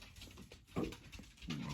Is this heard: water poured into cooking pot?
no